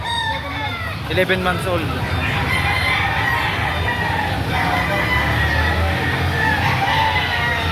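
An 11-month-old bull stag rooster crows loudly at a busy poultry market, with other chickens clucking in a dense, constant din while people talk over it.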